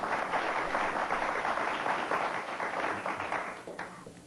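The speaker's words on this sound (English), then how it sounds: "let's give them all a round of applause" Audience applause at a televised panel discussion on Scientology, dense steady clapping that fills the room and fades slightly toward the end.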